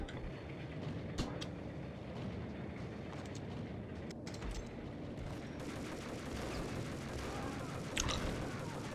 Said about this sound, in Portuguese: Toma, tiro, porra de bomba.